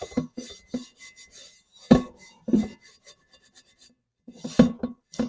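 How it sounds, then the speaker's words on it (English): A stainless steel spot scrubber rasps against a cast iron skillet in short, irregular scraping strokes, close up and fairly quiet, with brief pauses between bursts and no voices. "you can use a stainless steel spot scrubber just to make sure there's no food particles left over"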